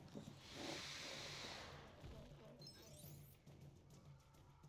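A raptor dinosaur in the video game LEGO Marvel Super Heroes gives a breathy hiss that swells for about a second, followed by quieter game clatter and a faint rising chirp.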